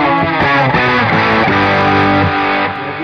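Electric guitar played through an RB5 reverb pedal on its small reverb setting, a loud, dense strummed chord passage with a short room-like tail, continuous and close, no voices.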